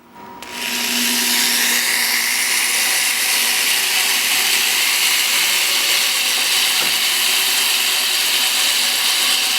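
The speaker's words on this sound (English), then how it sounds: "we're going to start drilling on the right hand side of the plate with the Harbor Freight" A corded electric drill fitted with a Harbor Freight bit bores into a metal plate, a loud, steady grinding whine starting after a brief pause and holding continuously throughout.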